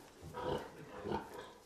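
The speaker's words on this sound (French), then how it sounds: "Les porcs prennent leur temps pour manger," Pigs on an intensive livestock farm feeding on straw, hay or fresh-cut grass, with a continuous low grunting and rustling murmur that swells twice in soft pulses; moderately close, with no talk.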